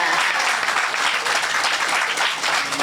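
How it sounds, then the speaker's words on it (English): A room full of people applauding at a California event celebrating the Americans with Disabilities Act, dense clapping held at a steady level throughout. "let's give Nina G another round of applause"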